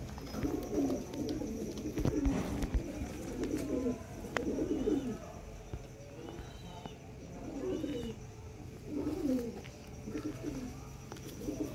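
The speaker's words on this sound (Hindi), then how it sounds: "बहुत ही लाजवाब दोस्तों कबूतर।" A pair of pigeons coos softly, with soft repeated throaty calls in a steady rhythm over faint background noise and no talking.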